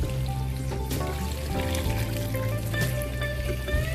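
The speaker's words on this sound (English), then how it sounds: "At this point, I'm going to add the water that I have in my kettle" Water pours steadily from a kettle into a pot of frozen beef, a continuous gurgling splash with rising tones as the pot fills.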